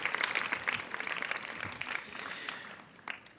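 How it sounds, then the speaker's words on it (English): An audience applauds Captain Sullenberger at a public event, a scattered patter of clapping that is loudest at first and then thins and fades toward the end. "Round of applause for Captain Sullenberger."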